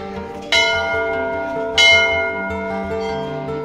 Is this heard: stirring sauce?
no